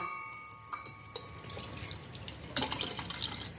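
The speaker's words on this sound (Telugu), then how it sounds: "ఇట్లా వడ పోసుకోవాలి" Neem-soaked water is strained out of a clay pot, giving a soft trickle with scattered drips and light splashes that swell briefly near the end.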